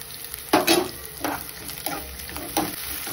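Green chillies drop into onions already frying with cumin and mustard seeds, and several loud sizzling bursts flare up as they are stirred. Utensils scrape now and then, and no one speaks.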